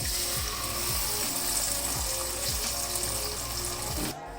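Water runs and splashes into a pan of roasted vermicelli for a sweet dish, a steady pouring rush with faint clinks that stops abruptly near the end.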